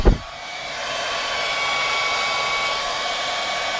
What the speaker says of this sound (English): It's a bloody hairdryer.